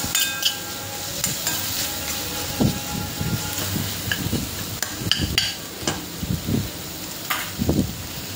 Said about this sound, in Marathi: कांदा टोमॅटो छान परतून झाला की त्याच्यामध्ये थोडीशी कोथिंबीर घालूया। छान मिक्स करून घ्यायचं आहे।